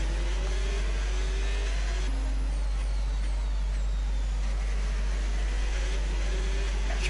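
Formula 1 car engines whine in the F1 25 racing game as Hamilton passes Russell, with high rising and falling engine tones over a constant roar.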